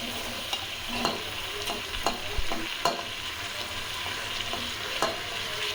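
Tomato frying in a pan with onion, ginger and garlic for vegetable pulao and kurma, giving a steady close sizzle with repeated scraping stirs of a spoon at irregular intervals, and no voices.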